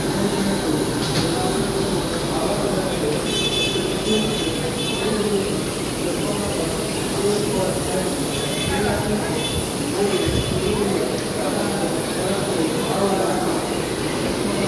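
The Ranchi-Hatia Express pulls into Ranchi railway station in India, a steady loud rumble of rolling wagons with intermittent wheel squeal and clatter throughout, while station bustle and murmuring voices sit beneath it.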